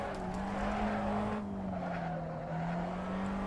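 A race car in a racing sim slides with its tyres squealing and skidding over a steady engine drone, the squeal sustained and fairly loud throughout with no talk.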